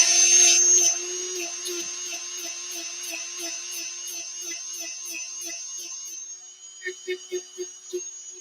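A Dremel rotary tool grinds on a cosplay Keyblade prop with a high steady whine, loud at first and then softer with rapid pulsing contact, before stopping into a few short bursts at the end.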